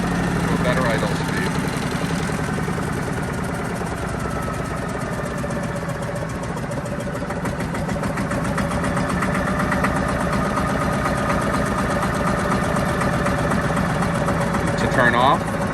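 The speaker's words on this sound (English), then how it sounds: "You can adjust your throttle down to a better idle speed." A 1958 Porsche Diesel Junior 108 K tractor's diesel engine idles steadily nearby, a continuous knocking rumble that runs throughout, with a voice talking over it.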